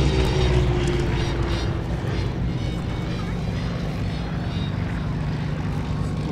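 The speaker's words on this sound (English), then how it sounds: "Followed by the Swiss Pilatus P2." A Swiss Pilatus P2 propeller plane passes at an airshow with a loud, continuous droning engine that fades slightly over several seconds, with faint voices underneath.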